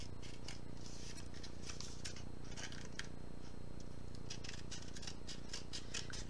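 Scissors snip through paper for an envelope craft, a run of quick crisp cuts in bursts, close and fairly quiet with soft rustling between.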